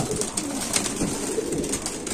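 Pigeons coo softly and repeatedly, their low burbling calls overlapping close by with no talking.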